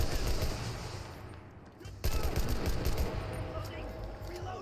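Rifle shots ring out in Enlisted, a zombie survival mode, quiet at first, then a sudden burst of rapid, close gunfire cracking repeatedly, with a voice talking beneath.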